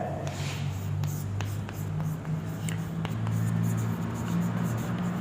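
Steady scratching of writing on a board during a physics lecture on conductors in an electric field, continuous strokes with small taps, close and moderately loud under a quiet room hum.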